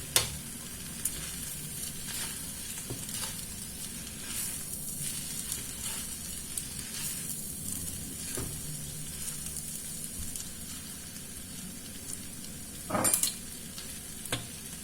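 Chicken stir-fry with coriander sizzling in a wok while being stirred, a steady faint frying hiss with occasional scraping clicks of the utensil, no talking.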